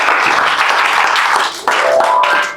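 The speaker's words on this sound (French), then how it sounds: "Est-ce qu'on peut acclamer le Seigneur?" A church congregation at a night vigil applauds loudly for the Lord, dense clapping throughout with a brief dip partway and faint voices rising near the end.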